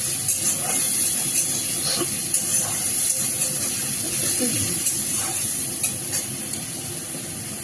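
Onion dropped into hot oil with a cumin tempering in a pan fries with a steady, loud sizzling hiss that carries on throughout, with small crackles along the way.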